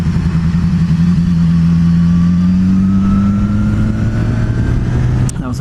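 A police vehicle passes close to a BMW S1000XR motorcycle with an inline four-cylinder engine as the bike rides along. Under the steady, loud engine drone, another engine's pitch slowly rises and then falls away. There is no talking.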